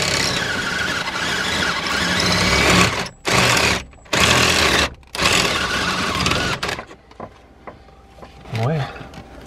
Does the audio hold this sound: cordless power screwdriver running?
yes